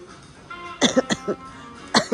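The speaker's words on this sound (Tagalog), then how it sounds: "Inuubo na ako" Several sharp coughs, close and fairly loud, come in a quick cluster of four and then one more after a short pause, with no talk between them.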